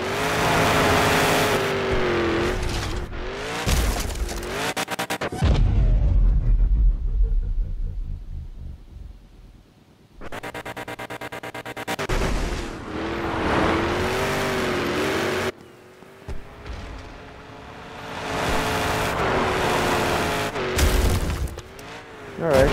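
Engine roar of the Avenger monster truck in the Monster Jam Showdown video game, loud revving bursts that rise and cut out, with a quieter rumbling stretch in the middle and no talk.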